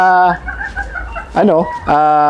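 Gamefowl roosters, including pure white kelsos, cluck and call loudly up close on a farm, with harmonic crowing-like bursts at the start, middle and end while someone talks.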